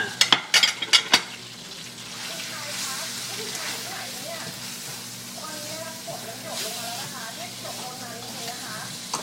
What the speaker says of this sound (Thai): เราใส่เนื้อหมูลงไปผัดค่ะ